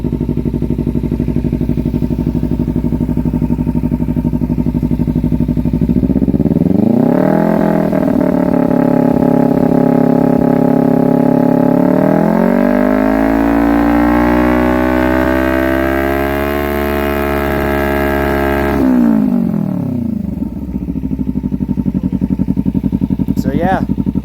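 A Kawasaki Ninja 300 with an upgraded aftermarket exhaust idles, then revs up in two sustained pulls, the engine note climbing and holding loud and close before dropping back to a low idle.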